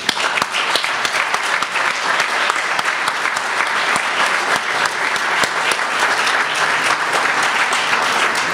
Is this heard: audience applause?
yes